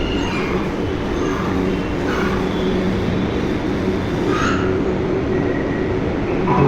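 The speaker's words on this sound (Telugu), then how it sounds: "ఇక్కడ మెట్రో వచ్చింది" A metro train rumbles steadily with low, dense rolling noise and faint higher rattles, heard from inside the train, no voices, close and continuous throughout.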